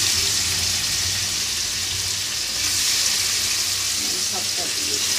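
Paneer frying in hot oil in a wok, with a steady, dense sizzle throughout the whole stretch and a few faint clinks near the end.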